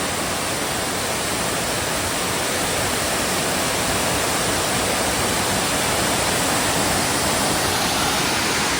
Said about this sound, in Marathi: तिथून उंच भाग आहे आणि तिथून हा धबधबा पडतो